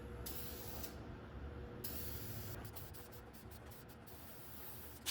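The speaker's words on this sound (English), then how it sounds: "This one is a fucking big sprayer." An aerosol spray can hisses out black paint onto car trim for an Audi S4, a steady close hiss running throughout with brief pauses between bursts.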